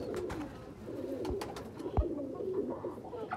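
A golden breeder pigeon with vermilion eyelids, of the Sialkoti or Kasoori type, coos softly while held in the hand. Its low murmuring calls are faint and near, with no talking.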